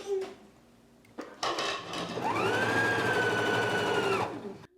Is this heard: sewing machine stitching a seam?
yes